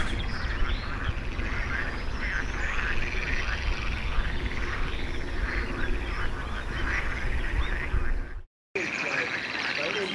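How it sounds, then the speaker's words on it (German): A dense, continuous chorus of many frogs croaking in a wetland near the Belgian border fills the scene at close range. It carries on without a break until a brief cutout near the end. "Hört man das? Hier ist eine Wohnsiedlung der Frösche."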